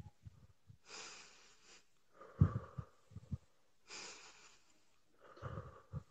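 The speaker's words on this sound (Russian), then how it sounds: "Вдох через нос, выдох через рот." Slow, deep breaths close to the microphone, drawn in through the nose and pushed out through the mouth, repeating in an even rhythm of airy inhales and exhales with a few soft snuffles.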